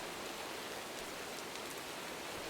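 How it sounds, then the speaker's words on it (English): Steady rain falls in the video game Minecraft, a constant even hiss with no other sounds over it. "Sorry if you like the rain."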